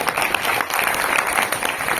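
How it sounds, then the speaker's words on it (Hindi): A crowd at a public government event in Bihar applauds steadily, a dense, continuous patter of many hands clapping at close range and fairly loud throughout. "आप लोग तालियों की गड़गड़ाहट से"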